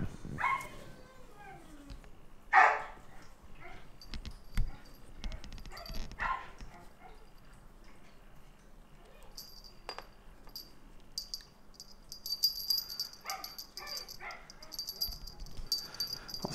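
An Australian Shepherd barks a few times at a distance outdoors, sharp yips scattered among quiet stretches, with faint rustling and background noise.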